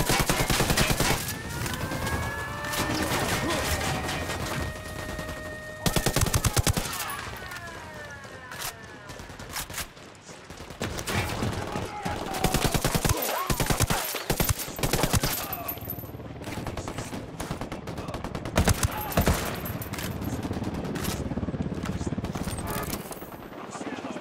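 Rapid bursts of automatic gunfire and single shots in a Ghost Recon Wildlands firefight, loud and repeated, with a helicopter-like drone and voices in the game's soundtrack.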